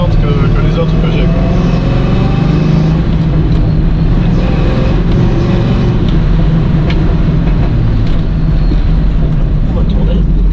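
A 1968 Chevrolet Camaro with suspension trouble drives loudly, its engine giving a steady low rumble with road noise throughout, recorded from inside the car.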